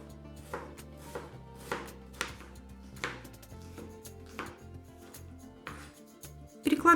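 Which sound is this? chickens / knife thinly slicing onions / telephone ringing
knife thinly slicing onions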